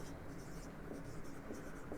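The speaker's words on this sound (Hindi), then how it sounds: "तो पहला क्वेश्चन लिखते हैं, एक क्वेश्चन लिखते हैं" Marker or chalk writing out a question on a board in a classroom: faint, continuous scratchy strokes, close and steady, with no talk.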